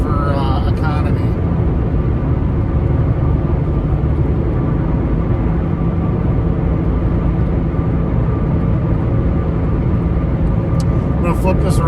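Steady, loud road noise fills the cabin of a small economy car driving along a Wisconsin road, a constant low rumble and tire roar that stays even throughout without breaks.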